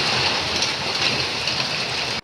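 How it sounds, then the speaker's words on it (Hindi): Heavy rain pours down at night in a steady, dense hiss that holds at the same level throughout, then cuts off abruptly at the end. "अंधेरा है, बहुत तेज़ बारिश हो रही है"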